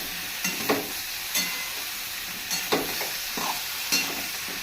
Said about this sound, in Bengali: এটা দিয়ে একটু ভালো করে নেড়ে চেড়ে তারপর আমি জলটা দেবো